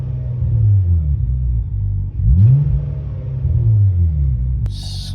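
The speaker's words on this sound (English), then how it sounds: "Let me blip the throttle a little bit here, see what she does." A naturally aspirated Hyundai Tiburon running a newly installed tuned ECU, its engine revved in quick throttle blips that rise in pitch and settle back toward idle. The sound is close and loud, and no one talks.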